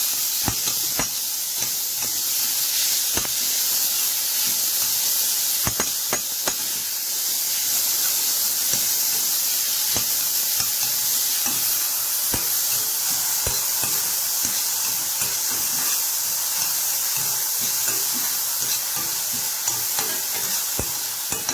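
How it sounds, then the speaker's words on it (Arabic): Onion frying in a pan, a continuous close sizzle and hiss with frequent sharp crackles and pops throughout, no talking. "هنا محضرين طاسة ننزل عليها ايه البصلة."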